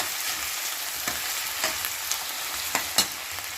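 Onions fry in a small amount of oil for Punjabi-style eggplant bharta, giving a steady, fairly quiet sizzle with a few soft stirring clicks and brief louder crackles near the end.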